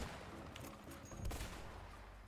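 Gunfire in the video game A Way Out, rapid overlapping shots and bursts with a heavier boom near the middle, steady and fairly dense throughout.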